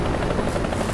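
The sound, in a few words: helicopter in War Thunder video game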